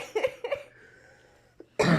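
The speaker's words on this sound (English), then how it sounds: "Sorry about the coughing." Two quick coughs, close and fairly loud, then a short pause, a faint sound, and a louder burst of noise at the end.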